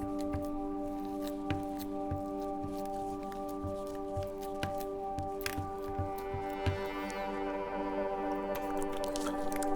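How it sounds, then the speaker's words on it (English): Wet hands press and flatten vegan chocolate chip cookie dough, giving soft, irregular squishes and pats close by over a constant steady hum. "I'm gonna wet my hand with water, and I'm gonna flat them"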